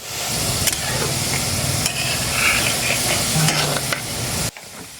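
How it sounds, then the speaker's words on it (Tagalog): Cassava balls threaded on coconut-leaf skewers fry outdoors in a loud, steady sizzle with bubbling crackle. The sound cuts off abruptly just before the end. "At ito na nga mga idol, ready na siya iprito."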